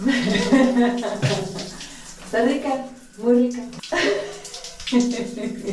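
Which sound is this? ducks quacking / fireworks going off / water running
water running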